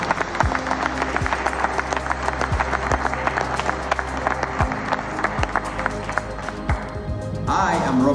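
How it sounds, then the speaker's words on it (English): An audience at a climate and energy resilience conference breaks into steady, moderately loud clapping that continues evenly throughout, with no clear speech over it. "Can we clap for him?"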